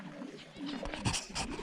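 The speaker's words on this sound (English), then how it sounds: "These are show doves, and these are such good condition pigeons." Show pigeons in a cage give soft, low cooing calls, close by, with faint background noise and no clear talk.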